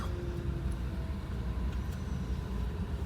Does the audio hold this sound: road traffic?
yes